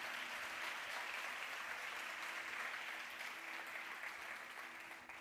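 A church congregation applauding during a sermon, a broad wash of many hands clapping together, sustained and distant-sounding, fading slightly toward the end.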